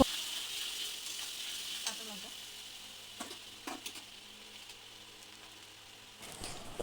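Mutton masala with yogurt being sautéed in a pan, a soft steady sizzle with occasional scrapes and clinks of a spoon, faint and close, with no talking.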